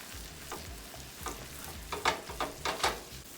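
Candied yam sauce with nutmeg, ground ginger and vanilla extract stirred in a hot pot, soft rhythmic scraping strokes over a low simmer, growing a little louder and choppier toward the end.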